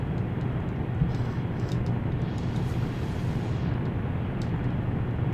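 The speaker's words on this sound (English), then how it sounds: "Our plane is spiraling out of control." Engine roar of a damaged aircraft spiraling out of control in War Thunder, a dense, steady rumbling drone with faint higher hiss, continuous and fairly loud with no talk.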